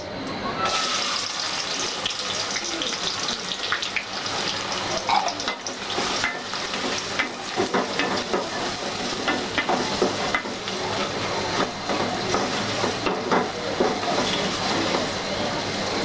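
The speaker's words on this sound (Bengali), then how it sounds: "তেলটি গরম হয়ে গেছে, এখন আমি এতে একে একে শুকনো মশলাগুলো দিয়ে দিচ্ছি।" Bay leaves, cardamom pods, cinnamon and onions fry in hot oil in a pan for chicken rezala, a steady close sizzle with stirring clatter running throughout, and no voice over it.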